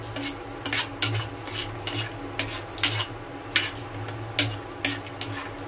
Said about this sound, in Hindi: घी डालने के बाद अब इसमें हम डालेंगे बादाम। बादाम को हमें थोड़ा सा भून लेना है।